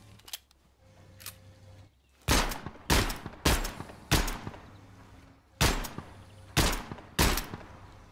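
Gunshots in Gunsmith Simulator ring out as loud, sharp cracks, two or three close together, then a pause and a few more, on a range with quiet mechanical handling and a low hum between shots.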